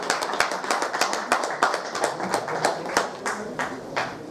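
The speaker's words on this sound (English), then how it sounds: "let's give him a big applause" Audience applause at a mutual fund roundtable event in Kolkata, a steady run of distinct, fairly close hand claps with a regular rhythm, moderately loud and without speech.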